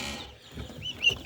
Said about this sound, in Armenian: հնդկահավերին